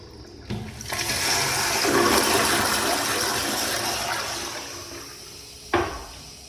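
A short toilet flush in a men's public restroom, a single loud rushing swirl that starts abruptly, holds steady for several seconds, then tapers off, ending with a brief clunk.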